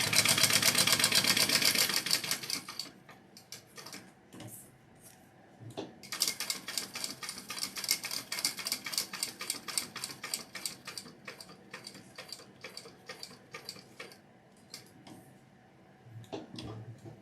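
A sewing machine stitching a double topstitch on a handmade waist bag, running in fast steady bursts of rapid ticking with short pauses between runs, close and fairly loud, with no talking.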